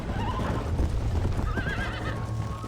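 A horse whinnies with rising and falling cries over steady clip-clopping hooves in the Red Dead Redemption video game, close and fairly loud throughout.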